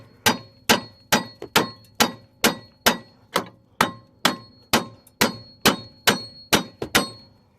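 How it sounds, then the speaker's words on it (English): A hammer strikes a Hyundai Tiburon V6 CV axle in about fifteen evenly spaced, ringing metallic clangs, close and loud, with no voices. "Just grab your hammer, just tap it."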